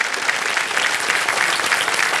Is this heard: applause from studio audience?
yes